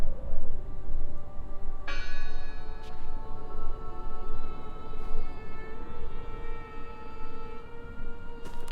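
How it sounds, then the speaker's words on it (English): A bell in the video game Draugen rings out with a bright metallic strike partway through, its tone ringing and slowly fading over a steady background rumble. "I heard the bell!"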